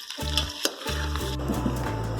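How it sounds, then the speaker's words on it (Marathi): Prawns fry in hot oil for a Nagpuri-style Savji prawn curry, a close, continuous sizzle and crackle over a pulsing low hum, with one sharp clink near the start. "थोडं फ्राय करून घेते"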